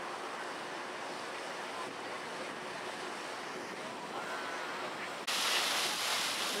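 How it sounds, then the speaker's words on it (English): Water splashes and rushes steadily in a city fountain in Berlin, a continuous wash of sound, with a sudden louder burst near the end. "And a nice little fountain."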